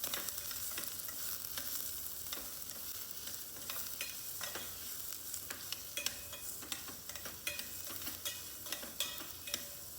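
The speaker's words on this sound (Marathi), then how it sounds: "तातूंत आमी हो कटींग केल्लो कांदो घालया. मातसो फ्राय करया." Chopped onion frying in oil in a pan, a continuous bright sizzle punctuated by frequent crackles and spatula scrapes, close and moderately quiet.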